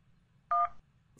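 Touch-tone dialing from a cell phone in the Henry Stickmin prison escape game: a single short DTMF beep, loud and clean, over a low background hum.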